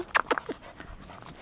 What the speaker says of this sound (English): He's a happy puppy.